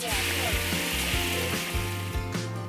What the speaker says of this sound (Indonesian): Tumis sampai bumbunya mengeluarkan aroma wangi.